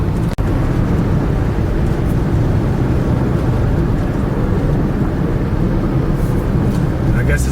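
Steady, loud low road rumble from a car driving along a road near Klang, Malaysia, continuous throughout with a single sharp knock near the start; a voice talks faintly underneath.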